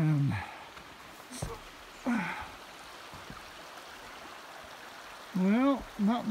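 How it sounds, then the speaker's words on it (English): A small, low-flowing creek runs steadily under a large trail bridge on a mountain loop hike, a soft broadband wash heard beneath occasional bursts of someone talking. "not much water flowing in this creek here to warrant such a gigantic bridge"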